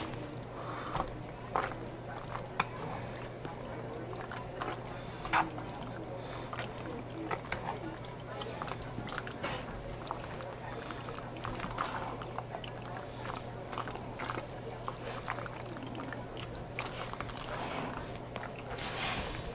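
Pasta mixture for baked ziti being stirred and mixed in a bowl, giving a steady run of soft wet squelches and light clicks at close range over a low constant hum.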